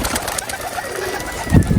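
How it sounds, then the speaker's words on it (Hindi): Pigeons flutter and stir close by in a rooftop loft with soft cooing, and a brief burst of flapping wings near the end marks a bird lifting off. "एक कबूतर ऊपर को गया है"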